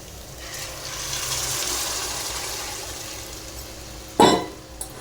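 Rice-cooking starch water poured into a cooking lentil dish, a steady soft watery pour lasting a few seconds, followed by a short louder splash near the end.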